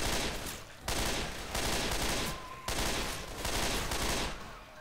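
Sustained bursts of automatic gunfire in Left 4 Dead 2, with rapid loud shots pouring into dead bodies and brief pauses between volleys.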